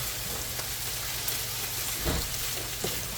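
Lumberjack hash mixture sizzles steadily in a pan as it is stirred, a close, even frying crackle with a couple of soft scraping strokes.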